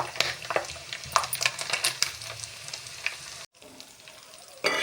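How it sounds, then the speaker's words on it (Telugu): Bhoti pieces coated in ginger garlic paste fry in hot oil, crackling sizzle with sharp spoon clatters against the pan, a brief gap, then frying resumes. "అది మంచిగా బ్రౌన్ కలర్ వచ్చేదాకా మనం వేపుకోవాలండి."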